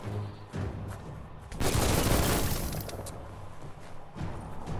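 Rapid bursts of gunfire in the video game Biomutant with booming impacts, loudest in the middle, continuous and dense with no voices.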